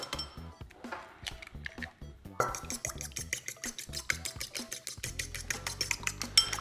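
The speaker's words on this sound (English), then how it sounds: "we just want to crack and whisk up 1 egg for our egg wash" An egg cracked and whisked for egg wash in a home kitchen while making sausage rolls: a quick tap and crack, then a steady run of close, light clinking whisk strokes against a bowl, growing denser toward the end.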